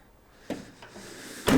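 The rear doors of a 2017 Renault Trafic Sport van unlatch with a couple of soft clicks, then swing open with a louder clunk at the end, heard close up in a quiet setting.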